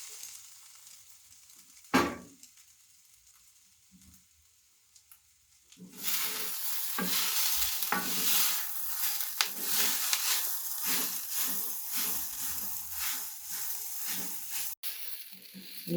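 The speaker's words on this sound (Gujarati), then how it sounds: "મિત્રો આપણે 10 મિનિટ સુધી આપણે એકદમ ધીમા તાપે તુવેરને આપણે સાંતળી છે." Green pigeon peas (tuver) sauté in a pan on a low flame for a lilva kachori filling. After a quiet start with one sharp knock, a steady close sizzle rises and continues evenly, with no talking.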